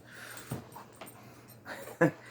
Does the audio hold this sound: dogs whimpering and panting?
yes